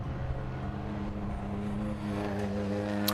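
A vintage Bentley 3-litre race car, number 46, drones past at a historic racing festival, its engine a steady, rising mechanical hum with a slight climb in pitch toward the end, no commentary audible.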